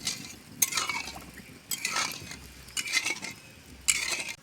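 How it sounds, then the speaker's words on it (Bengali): A utensil stirs homemade tomato sauce in a pan as it melts down, making four or five separate scraping sweeps against the metal over a faint sizzle, with no voices. "গলে যাওয়া পর্যন্ত নাড়তে থাকবো।"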